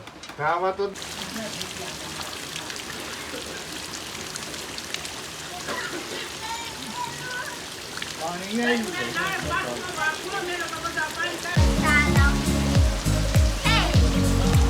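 Heavy monsoon rain pours steadily in a broad hiss, with water running, while voices talk over it throughout and a low rumbling burst comes in near the end.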